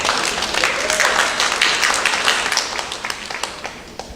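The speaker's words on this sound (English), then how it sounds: "give you a round of applause all together" Applause breaks out at a high school senior awards ceremony as recipients gather on stage, a lively crowd clapping with sharp individual claps standing out, sustained and gradually tapering.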